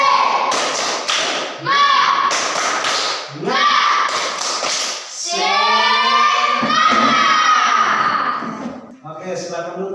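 Children in a classroom play a rhythmic spirit clapping game, with steady claps and thumps under loud group chanting and calling voices, ending in a final burst of claps.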